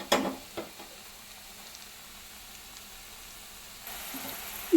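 Onion pakodi frying in hot oil, a steady, faint sizzle running throughout, with a few louder crackles and stirring sounds at the start and a brighter hiss swelling near the end.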